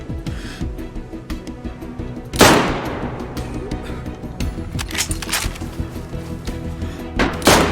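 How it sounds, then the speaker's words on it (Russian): Gunshots in the survival video game DayZ: a sharp, loud shot crack at about 2.4 s with a decaying tail, further shots near 5 s and a loud one at the end, over a steady background rumble. "тут еще на тело в меня стреляет"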